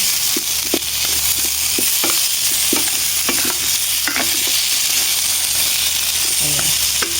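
Chicken feet for adobo sautéed in a pan, with a constant loud sizzle and frequent sharp scrapes and knocks of a spatula stirring them, close by and with no voices.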